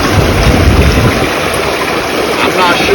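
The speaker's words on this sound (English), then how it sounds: "a close-up of the water going in now that it's clear" Water pours steadily into a pond, a continuous close rushing and splashing that stays loud and even throughout.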